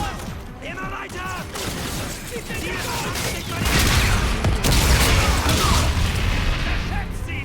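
Grenade blast and gunfire in Call of Duty: Infinite Warfare, a heavy rumbling explosion swelling midway amid scattered shots and battle noise, loud and close, with voices talking throughout.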